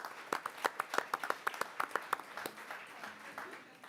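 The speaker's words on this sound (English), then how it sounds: "they deserve another big round of applause" Audience clapping at a school board of education meeting, a short burst of crisp, fairly close claps that thins out after a couple of seconds, with faint voices murmuring underneath.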